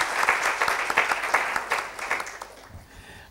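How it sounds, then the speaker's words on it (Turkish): An audience applauds at a Turkish talk event on a century-old brand, a brisk round of individual claps that fades in the final second. "Burada ben yine evet bir alkışlayalım derim"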